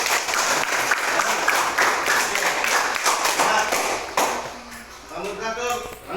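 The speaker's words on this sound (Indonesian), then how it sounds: "Tepuk tangan dulu." Classroom applause, a dense burst of clapping from students that holds steady for several seconds before thinning out, with voices starting to talk over the tail end.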